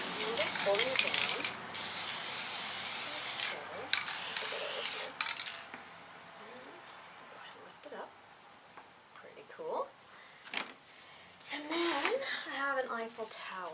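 Spray paint hisses through a damask stencil onto a masked-off composition book cover in several loud bursts of about a second each, separated by pauses, followed by talking.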